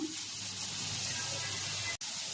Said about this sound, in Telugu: ఇంకాసేపు ఫ్రై చేద్దాం.